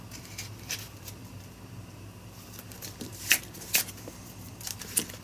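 Magic: The Gathering cards are shuffled during a game, soft riffling patter punctuated by several sharp, crisp snaps of cards close by.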